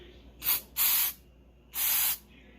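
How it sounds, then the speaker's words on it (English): An aerosol cleaner can sprays a car's mass air flow sensor in three hissing bursts, the first two close together and the last one longer, with quiet gaps between. "Spray it. Maybe at an angle."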